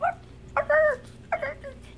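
A dog gives three short bursts of high, whiny whimpers and yips, close and fairly loud, with brief pauses between them.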